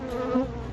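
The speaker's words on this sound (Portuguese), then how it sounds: "Pelo zum, zum, zum, já sabe de quem estamos falando, né? Bem-vindo ao mundo das abelhas." Bees buzz in a steady, close drone that swells slightly midway through a short burst.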